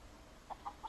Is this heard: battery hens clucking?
yes